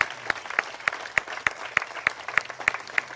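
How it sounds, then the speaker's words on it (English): A crowd at an outdoor commemoration in Gordon Park, Detroit, claps for neighborhood police officers, a loose run of sharp, regular claps without talk. "Please give them a hand."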